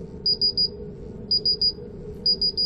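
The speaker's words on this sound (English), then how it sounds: "buzzer produces at least 2 beeps per second, the LED lights flash on and off, and the vibration alarm functions" A ToxiRAE Pro gas detector's alarm buzzer goes off during a bump test, giving three quick bursts of five rapid, shrill, close beeps over a low background hum.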